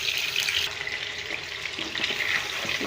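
Chicken pieces frying in a pan for Sindhi tomato chilli chicken make a steady, soft, hissing sizzle throughout, with faint stirring underneath and no talking.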